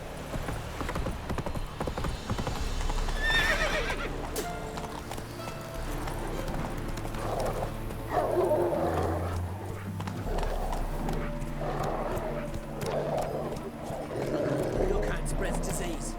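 Horse in the Witcher 3 video game clip-clopping along at a steady gait with an occasional whinny, loud and close, mixed with game music and a voice talking over it.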